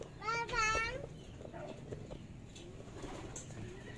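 A six-month-old pigeon gives a short burst of cooing near the start, then faint rustling and movement noises continue in a quiet indoor space. Soft human voices can be heard in the background.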